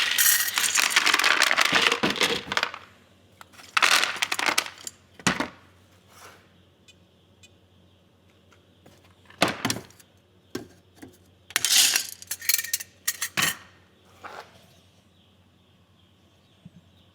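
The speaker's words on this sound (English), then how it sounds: "Just hand shelling some high moisture corn fields, see where we're at." Hard dried-looking high-moisture corn kernels being shelled by hand, rattling and clattering in quick bursts with pauses between, close and fairly loud.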